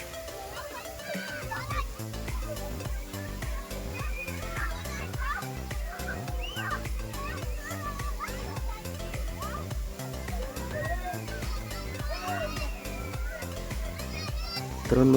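Children shriek, shout and play beneath a water shower at a water park during a primary-school trip, a busy crowd of young voices with faint splashing and sloshing mixed throughout.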